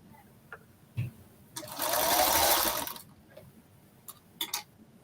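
A sewing machine briefly runs a quick burst of stitches while quilt blocks are sewn together, with clicks and handling taps before and after the short whir.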